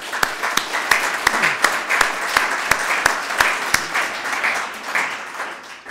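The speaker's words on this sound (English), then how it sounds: "Give yourselves a round of applause." Audience applause at a university athletics announcement of a new athletic director at Northwest Missouri State, steady crowd clapping with sharp individual claps throughout, fairly close and loud.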